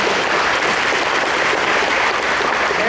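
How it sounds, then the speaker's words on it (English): Audience applause at a Laurens County touchdown club meeting, a steady, dense clapping from a room full of people, loud and sustained for a few seconds with no talk over it. "So if you see Barry Atkinson, applaud him for a job well done."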